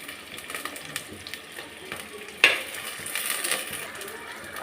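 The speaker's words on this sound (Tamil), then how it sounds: "வெங்காயம் போட்டிருக்கேன், வதக்கணும்." Sliced onions with fennel seeds sauté in a pan for chicken gravy, giving a soft, quiet sizzle with light stirring and one sharp clink of a utensil partway through.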